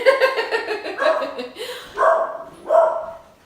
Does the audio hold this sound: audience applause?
no